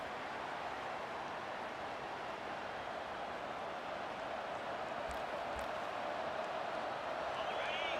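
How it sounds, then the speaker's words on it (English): A steady, dense roar from a packed stadium crowd in the College Football 25 video game at night in Death Valley, loud and unbroken throughout, with faint higher cheers rising briefly near the end. "This Crowd is loud, folks."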